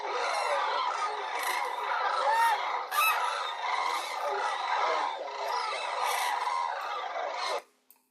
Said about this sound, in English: These are hooded cranes and some young hooded cranes, which is by far the most numerous there.